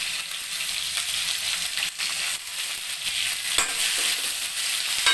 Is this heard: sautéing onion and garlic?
yes